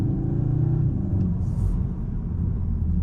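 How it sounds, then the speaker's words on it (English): The artificial engine sound of a 2023 Cupra Leon Estate in sporty mode, a low, rough drone like a struggling diesel, rumbles steadily throughout, with a faint brief hiss partway through; no voices. "Sounds a little bit like a diesel struggling."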